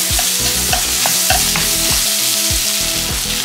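Egg fried rice stir-fried in a pan over high flame, with a loud continuous sizzle broken by rhythmic scraping and tossing strokes of the spatula, close and steady, no voices.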